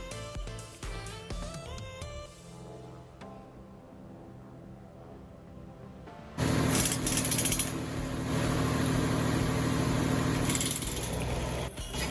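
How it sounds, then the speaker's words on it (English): A drill rig's drop hammer drives a split spoon sampler while installing a groundwater monitoring well: a steady engine drone, then suddenly much louder and harsher, clattering and grinding without pause. "Here the driller is activating the hammer up and down to drive the split spoon sampler ahead of the drill string"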